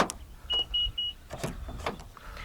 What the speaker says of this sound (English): To lock the car, press the black button on any of the front door handles.